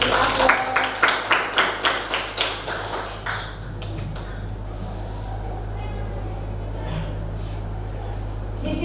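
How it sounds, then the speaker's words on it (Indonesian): A classroom of students claps in a quick burst of applause for a student during a computer networking lesson, the rhythmic claps fading out after a few seconds into quiet room tone with faint talk. "Bagus, kita beri aplaus."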